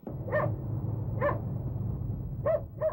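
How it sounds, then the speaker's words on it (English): A dog barks in a flood-stricken township, four short barks spaced over a few seconds, the last two close together, over a steady low rumbling background. "A barking dog senses something terribly wrong"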